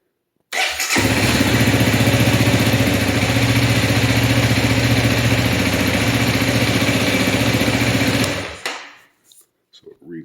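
A Honda CRF 300L motorcycle engine cranks and catches, then idles steadily at close range for several seconds before being shut off, leaving near silence with faint handling noises.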